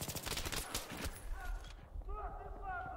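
P90 submachine gun in a video game firing rapid bursts of shots for over a second, then stopping; other game sounds and faint voices continue afterward.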